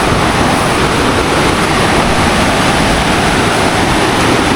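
A river swollen and rushing past, a loud, dense and unbroken roar of flowing water close by that fills the whole stretch evenly, with no voices over it.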